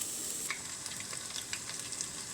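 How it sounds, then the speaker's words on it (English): Onions and garlic sweat in a pan with a soft, steady sizzle and small crackles, close and moderately quiet, with no one talking. "Let's let these go ahead and sweat for a while"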